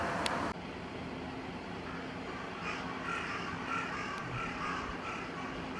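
Black crows cawing in a Japanese city, several distant calls over steady outdoor traffic and street noise, with no talk.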